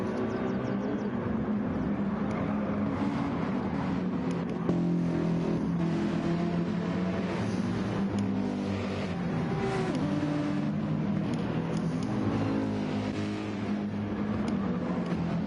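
LMP1 and GTD race cars circulate at Spa in a racing video game, giving a continuous engine drone with shifting revs that holds steady across the whole stretch, without voices.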